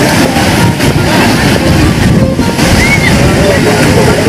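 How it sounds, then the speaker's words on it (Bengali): Sea waves wash in steadily at Blue Flag beach in Puri, a loud, unbroken roar of surf mixed with heavy wind buffeting the microphone. "সমুদ্রের ঢেউ।"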